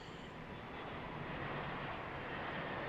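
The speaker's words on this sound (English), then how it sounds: "Landing on runway 31 at Harrisburg International Airport." An aircraft landing on runway 31 at Harrisburg International Airport gives a steady, broad engine roar that holds at a constant moderate level for the whole stretch, with no voices.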